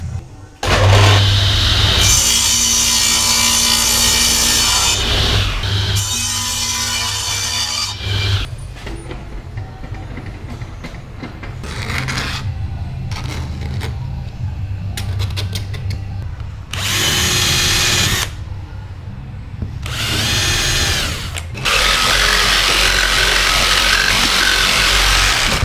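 Power tools cut a speaker hole in a board for a 2004 Subaru Legacy sound system install: long bursts of loud whining drill and saw noise alternate with short pauses and lower background hum, close and steady.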